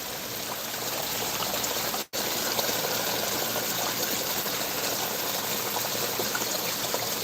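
Steady splashing and trickling water in a garden pond, a continuous close wash of sound with one brief dropout partway through, no voices.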